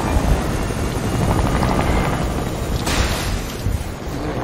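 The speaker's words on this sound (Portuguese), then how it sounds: "És tu que estás com o helicóptero?" A video game helicopter thunders continuously, a loud close rotor roar with rumbling wash and a brief bright burst partway through, no voices.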